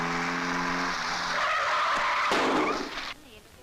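A car's tires screech loudly as it brakes hard to a stop, a long skidding squeal lasting about three seconds before cutting off, with a voice speaking over the end.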